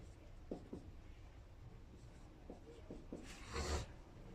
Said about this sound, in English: Let me just write this here.